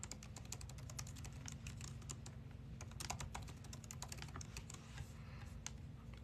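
Rapid keystrokes on a computer keyboard as a password is typed, steady irregular clicking over a low background hum, with no talking.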